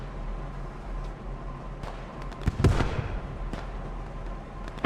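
Gunfire crackles in the PostScriptum war game as scattered distant shots and pops sound over low background noise, with one louder, sharper burst near the middle.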